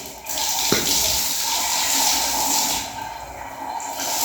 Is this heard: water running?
yes